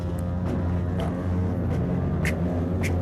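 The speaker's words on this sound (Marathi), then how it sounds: "इकडे बर्न आउट चालू आहे, बर्न आउट." A vehicle doing a burnout at a crowded Independence Day riders' gathering, a steady loud engine roar held at high revs with tyre noise beneath, continuous and close for the whole stretch, with scattered sharp bursts above.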